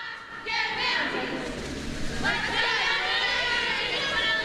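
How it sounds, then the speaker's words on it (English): High school cheerleaders at Alleghany High School shout and chant at a morning football kickoff event, their bright, high voices rising over a lively crowd murmur that continues throughout. "Let's listen to the cheerleaders for a second."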